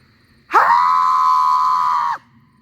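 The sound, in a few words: played-back recording of screaming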